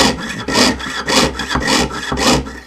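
A jeweler's saw cutting through metal in slow, even strokes, each pass a rasping scrape about half a second long, close and clear with no talk.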